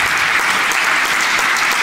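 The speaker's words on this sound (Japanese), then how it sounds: "バンドのメンバーにちょっと温かい拍手を。" Dense, warm applause from an audience for the backing band at an amateur singing gathering, a continuous loud wash of many hands clapping with no pauses and no clear voices.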